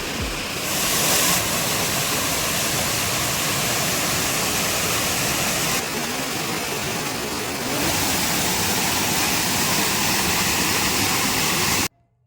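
Water of Rampa waterfall at Maredumilli, falling between two hills, pours in a loud continuous roar heard close by, shifting slightly in tone before cutting off at the end.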